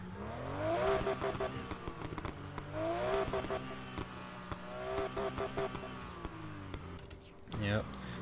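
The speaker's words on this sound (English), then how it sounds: "I'm just gonna show how the engine sound like" Porsche 911 RSR with a 3.6 liter flat six engine in the racing game Need for Speed Heat, revving up and down in repeated rising and falling sweeps, loud and close, with brief clicks and a sharp burst near the end.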